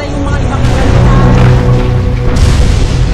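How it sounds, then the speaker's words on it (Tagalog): Deep, rumbling booms from the erupting Canlaon volcano in Negros roll on continuously and loudly, with a voice talking over them. "Mula sa pagputok ng bulkan"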